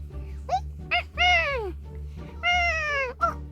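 Kitten meows in the Toca Life World video game, four or five short bright mewing calls in quick succession, two drawn out and falling, heard close and clear over a low background hum.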